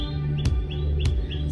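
Birdsong in a wild meadow at a camping and glamping site: short repeated chirps, two sharp calls about half a second apart over a low steady hum, fairly close.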